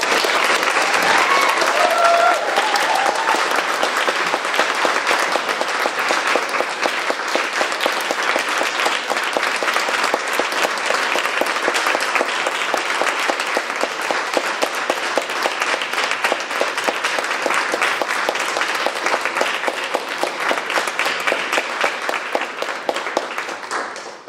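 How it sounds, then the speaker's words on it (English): Sustained, dense audience applause for the second-place team at a national parliamentary debate tournament awards ceremony, loud and steady for over twenty seconds before tapering slightly at the end. "I want to make sure that this team gets a good round of applause, Whitman College, Jazz Lou and Casey Moulton"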